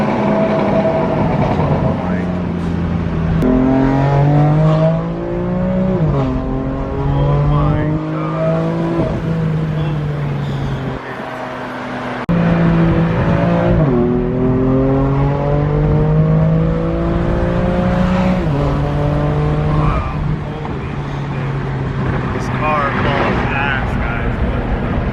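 A BMW M3 engine revs hard inside a tunnel, its loud, echoing note climbing repeatedly through the gears with brief lifts between pulls and a short drop-off partway through.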